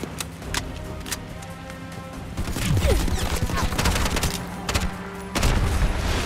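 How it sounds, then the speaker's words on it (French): Rapid bursts of gunfire from the first-person shooter Bright Memory Infinite on Nintendo Switch crackle over a steady hum of game music and effects, with a heavier barrage near the end. "Là, je tire comme un demeuré"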